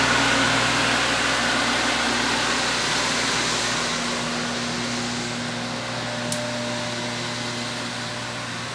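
Laminator production machine running at full width, with air blowing to float the web: a steady, loud mechanical hum and broadband air rush with constant tonal drones, continuous throughout without speech, plus one brief faint tick near the end.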